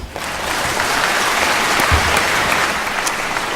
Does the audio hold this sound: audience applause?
yes